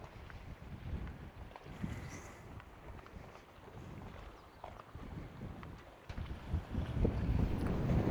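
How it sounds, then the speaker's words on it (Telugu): Strong wind at the OWK Reservoir in Kurnool buffets the microphone in a constant low roar, with gusts rising and growing louder toward the end; no voices are heard. "ఇక్కడ విండ్ స్పీడ్ అయితే వస్తుంటుంది"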